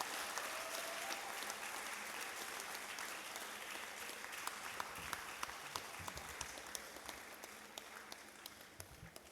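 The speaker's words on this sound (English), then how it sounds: "Another round of applause for her." Sustained audience applause at the University of Ibadan 2025 convocation ceremony, a dense, steady wash of many hands clapping from a large crowd, moderately quiet and distant, continuing without a break.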